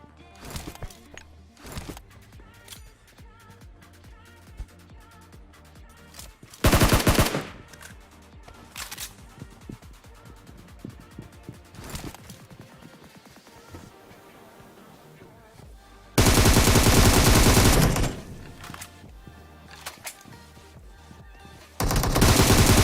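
Rapid automatic gunfire from the mobile battle royale game PUBG Mobile, with long sustained bursts and scattered shots, loud and dense, over continuous game sound, with no talking.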